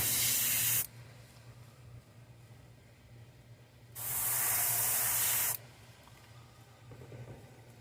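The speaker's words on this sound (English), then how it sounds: "we're just gonna spray white" White spray paint hisses from a can over a stencil on a custom-painted S crank, in two steady bursts of about a second each separated by a quiet pause, close and loud over a low background hum.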